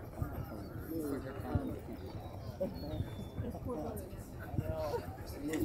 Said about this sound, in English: Those birds are having a good time.